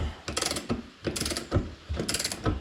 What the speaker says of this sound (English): here we go, ratcheting